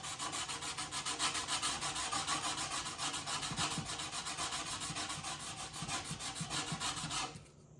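An emery board rasps rust off a snowboard's steel edge in fast, steady back-and-forth strokes, a continuous gritty rubbing close up that runs nearly seven seconds before stopping.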